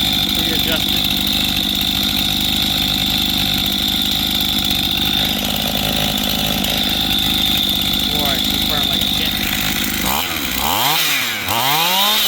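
A freshly rebuilt Stihl MS 271 chainsaw with a rebuilt carburetor runs loudly and close by, holding a steady buzzing idle before revving up and down in quick surges near the end.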